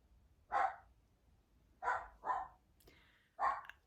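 A dog barks four times, loud and close, with single barks separated by pauses and a quick pair in the middle, over a quiet background.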